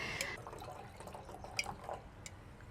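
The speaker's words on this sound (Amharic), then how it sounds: "በመጨረሻ የምንጠቀመው እንግዲህ ጋዝ ያለው ውሃ ነው" Sparkling water poured into a drink in a kitchen, a faint, soft trickle with light fizzy drips throughout, fairly quiet and steady.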